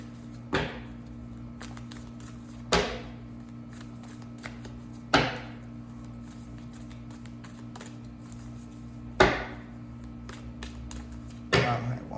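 Quiet room with a low hum, broken by a handful of soft, brisk tarot-card shuffling riffles spaced a few seconds apart.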